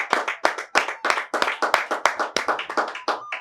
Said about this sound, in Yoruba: Ẹ bá ń pàtẹ́wọ́ fún ìyá mi, ẹ bá ń pàtẹ́wọ́ fún ẹ.